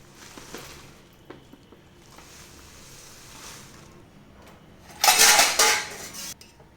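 Kitchen vessels being handled, with faint scattered clinks early on, then a loud close clatter of metal pots and utensils knocking together for about a second and a half near the end.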